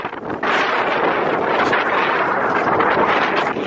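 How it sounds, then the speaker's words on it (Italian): Loud, continuous wind buffeting the microphone with a roaring, rumbling rush that barely lets up. "C'è un po' di vento, non mi sentirete."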